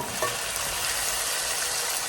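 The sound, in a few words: chicken frying in oil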